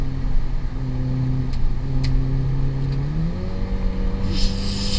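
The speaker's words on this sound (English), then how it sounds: "let's do a little cheeky downshift." A BMW 120i fitted with a custom 1M-style quad exhaust drones steadily from inside the car, then the engine note steps up as a downshift raises the revs near the end, with a brief exhaust crackle.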